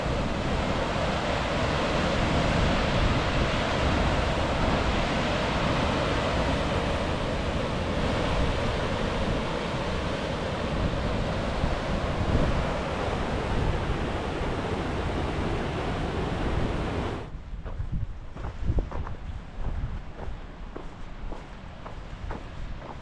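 The South Fork of the Sun River rushes into a reservoir in the Bob Marshall Wilderness, a loud, steady broadband wash of flowing water that drops off abruptly near the end, leaving quieter scattered crunches.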